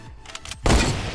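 A single heavy rifle blast from a blue hunting rifle in a shooter video game, fired at a brick wall, bursts out loud and broadband after a quiet stretch of faint rumbling, then rings on with a sustained crumbling, reverberant tail.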